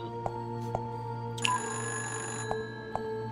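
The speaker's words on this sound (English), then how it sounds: "Phone is ringing." Telephone ringing in the game Fran Bow, an old-style bell ring sounding in short repeated bursts over a steady low background hum, with one longer ring near the middle.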